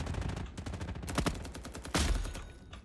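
Rapid automatic weapon fire from a Roblox war video game, steady rhythmic bursts at moderate loudness with a sharper, heavier burst near the end.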